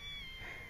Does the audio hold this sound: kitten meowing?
yes